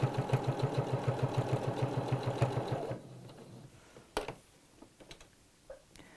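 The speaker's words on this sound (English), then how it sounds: "And we'll neatly sew all around the edge." A sewing machine stitches around the edge of a fabric pocket with a rapid, even mechanical chatter for about three seconds, then stops. A few scattered clicks and taps of handling follow, and no one speaks.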